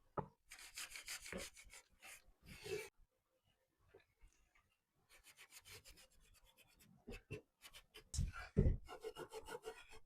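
Wax polish being rubbed by hand into a dry, worn wooden box, giving soft scratchy rubbing strokes in bursts separated by pauses, close and quiet.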